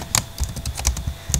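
Quick bursts of keystrokes on a computer keyboard during a chemistry calculation, a run of sharp, irregular clicks close by with no talking.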